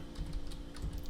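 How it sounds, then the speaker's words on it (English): Rapid keystrokes on a computer keyboard, a quick irregular run of close, clicky taps over about a second. "And we're going to type in"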